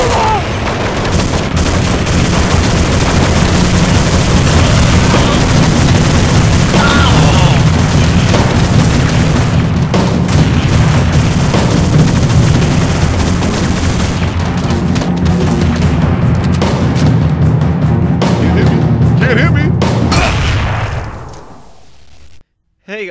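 Dense, loud gunfire and booming blasts from a Counter-Strike match, sustained for about twenty seconds before cutting off, with a voice talking over the barrage.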